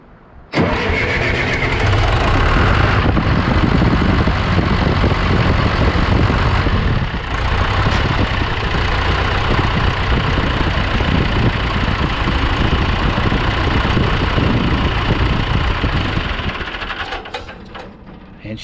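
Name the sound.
John Deere 480B engine starting and idling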